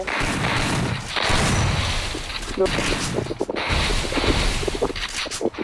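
Rapid gunfire bursts in the mobile battle game Garena Free Fire, loud and dense with sharp cracks and booms, broken by brief pauses, while players talk excitedly over the shooting.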